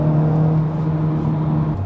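A 2021-era Honda Civic Type R 2.0 hot hatch with 320 horsepower driving a winding road, its engine holding a steady, loud drone with a slight pitch drop near the end and no voices.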